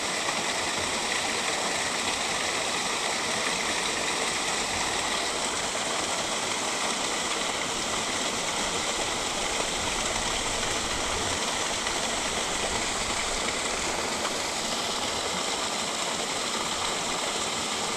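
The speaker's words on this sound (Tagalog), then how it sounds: "May falls dun oh." Waterfall at Tala River Park in Cavite, a steady broadband rush of falling water that holds constant throughout without pause, fairly loud and close, with no voices over it.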